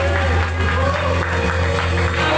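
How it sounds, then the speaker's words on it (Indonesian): A church congregation applauds after a worship song, a loud, sustained wash of many hands clapping together over a low musical hum, with some voices mixed in. "Berikan tepuk tangan."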